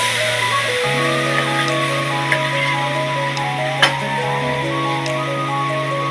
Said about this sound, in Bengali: মিক্সারটা তিন থেকে চার মিনিট ভালো করে কষাইতে হবে